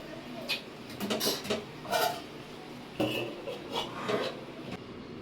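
A spoon stirs chana dal and tomato curry in a pan, giving a series of irregular scraping clinks and rubbing strokes against the metal, close and moderately loud, about a dozen hits over a few seconds.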